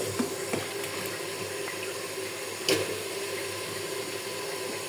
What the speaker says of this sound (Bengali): জলটা দিয়ে দেব, জলটা দিয়ে ভালো করে ঢাকনাটা দিয়ে ভালো করে সিদ্ধ করে নেব।